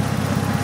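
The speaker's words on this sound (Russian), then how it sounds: "Здесь у нас стоит ниссановский движок 16-вольтовый" A Nissan RB inline-six engine idles in a drift car, a steady, loud low rumble with an even pulsing throb and no voices.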